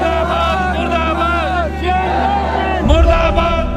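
A large protest crowd shouts slogans in unison, loud and close, with many overlapping raised voices and a swell of bellowing near the end.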